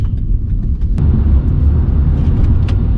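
A BMW 330i M-Sport G20 cruises fast along the Depok–Antasari toll road, heard from inside as a loud, steady low rumble of engine and road noise with faint ticks and rattles.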